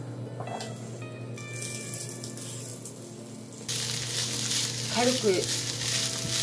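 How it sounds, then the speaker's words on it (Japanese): Garlic chives cut into 3–4 cm lengths fry in a hot pan with a bright, steady sizzle that swells louder partway through, along with a few stirring scrapes and a brief spoken word. "そしたらもうニラを焼いていきます。"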